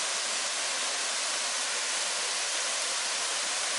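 River water in San Ildefonso rushes in a steady, loud, broadband roar like a waterfall, unbroken and with no voices.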